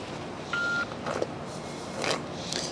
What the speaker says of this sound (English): So they got me on hold.